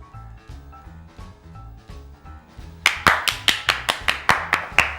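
Applause breaks out at a studio talk show with several guests: sharp, evenly spaced claps ring out loud and close after a quieter stretch of soft rhythmic tapping.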